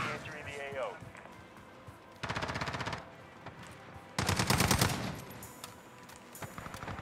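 An AK47 fires in a video game: two loud bursts of rapid automatic gunfire, each lasting under a second, separated by quieter game ambience with a few faint thuds.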